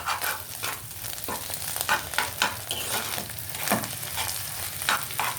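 Egg frying in a pan gives a steady close sizzle with repeated scraping and stirring strokes at an uneven rhythm, moderately quiet, and no one speaks.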